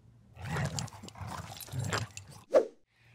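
A dog barks and growls in a short, close sequence of gruff vocal bursts, ending on one sharper bark before fading to quiet.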